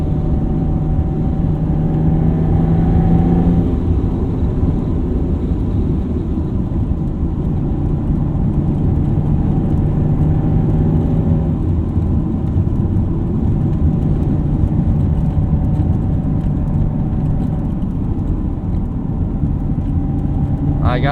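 A 1992 Dodge Stealth RT Twin Turbo engine drones steadily from inside the cabin, a low continuous rumble with slight shifts in pitch as the car pulls, loud and unbroken throughout.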